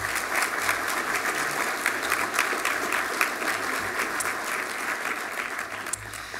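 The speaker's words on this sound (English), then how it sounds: "So why don't you give you guys another round of applause." An audience at the Iowa Character Awards ceremony gives another round of applause, a continuous spread of many hands clapping at moderate distance with no break throughout.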